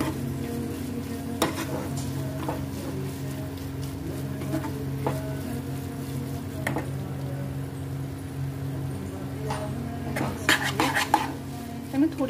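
Paneer bhurji is stirred and mixed with butter in a pan, with scattered sharp spoon clinks against the metal over a steady low hum and faint sizzle, close by.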